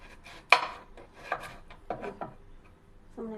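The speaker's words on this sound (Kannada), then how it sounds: "ನಂಗೆ ಕೊಬ್ಬರಿ ಇತ್ತು ಸ್ವಲ್ಪ, ಅದನ್ನೇ ಈಗ ಚಟ್ನಿ ಮಾಡೋಣ ಅಂತ ಹೇಳಿ ಕಟ್ ಮಾಡ್ಕೊತಾ ಇದ್ದೀನಿ" Small pieces of coconut being cut for chutney, heard as a handful of close, sharp knife taps and scrapes against a board at uneven intervals, fairly quiet, with no voices.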